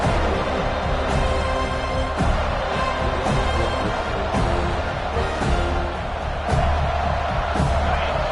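A stadium crowd in the College Football 26 video game roars on fourth down, a dense, loud, continuous wall of cheering with a few sharp thuds and surges.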